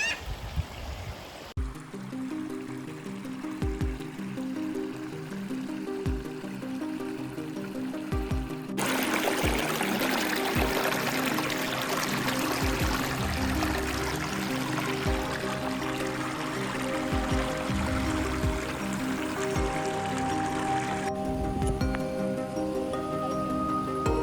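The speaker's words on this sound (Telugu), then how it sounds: "తలకోన వాటర్ ఫాల్స్ దగ్గరలో," Water rushing at Talakona waterfall in forest near Tirupati, Andhra Pradesh, a steady broadband roar that swells louder midway and holds, with faint low knocks beneath and no talk.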